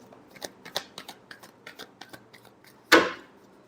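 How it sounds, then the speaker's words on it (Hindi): Tarot cards are shuffled in a quick series of soft, crisp flicks and riffles, close and quiet, finishing with one louder snap of the deck. "Last shuffle."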